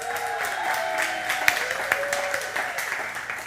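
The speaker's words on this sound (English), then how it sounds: "clap it up for Tiffany" Guests at a birthday party clap for Tiffany, who brought Dino Nuggies, a lively scatter of hand claps with a few sharp nearby claps standing out over a steady background hum.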